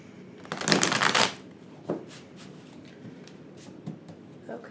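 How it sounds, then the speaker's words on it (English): A deck of tarot cards is riffled in one loud burst, followed by a few softer taps and shuffles as the cards settle, close and quiet otherwise. "I'm going to shuffle one more time."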